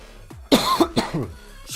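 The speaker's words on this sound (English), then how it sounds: "Got a little bit of tickly cough." A single close, dry, tickly cough with a throat-clearing edge from a rugby match commentator, a few short bursts over about a second.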